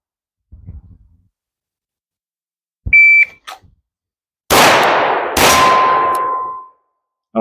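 At an outdoor shooting range, a short electronic beep is followed by two loud, close gunshots about a second apart, the second leaving a sustained metallic ring from a struck steel target.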